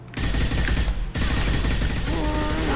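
Rapid gunfire rattles in a Mass Effect 2 firefight, a dense burst of automatic shots with a brief gap before the shooting resumes, loud and sustained over the game's background sound.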